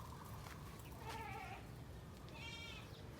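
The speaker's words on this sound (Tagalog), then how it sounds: "Yan po yung ating mga tupa, laging magkakasama pag gumalaw." Sheep in a farm pen bleat twice, faint and at a distance, under a steady hiss of background noise.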